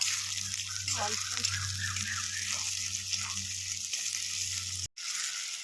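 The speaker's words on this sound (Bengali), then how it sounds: "এবার আমি পেঁয়াজটা দিয়ে দিলাম, লঙ্কাটাও দিয়ে দিলাম।" Onions and chopped chillies sizzle in hot oil at moderate volume with a bubbling, watery crackle. The sound cuts off briefly near the end, and a low steady hum runs underneath.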